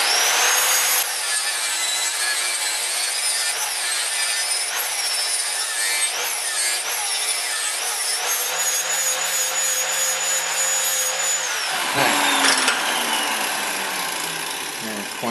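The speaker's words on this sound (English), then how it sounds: "right now I'm just thinning the blade up a little bit because it was pretty thick piece of steel." A grinder thins a thick steel knife blade, giving a continuous loud, high abrasive whine. The pitch wavers as the blade is worked, then cuts out abruptly near the end.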